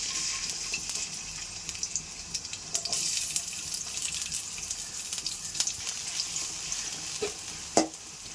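Onions frying in hot oil in a kadai, a steady broadband sizzle with occasional sharper crackles and clinks, close and continuous with no talk.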